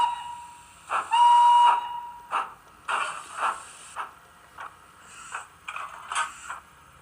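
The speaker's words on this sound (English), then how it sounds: "Got to whistle." A model train sound decoder's miniature steam whistle blows in several short and longer toots, thin and tinny, separated by brief pauses and quiet chuffing.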